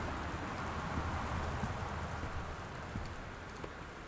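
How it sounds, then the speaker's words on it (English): Steady rain falls on a rainy night in the video game Gone Home, a constant dense hiss of drops with faint patters, even in level from start to end and with no talk. "It's a big rainy night."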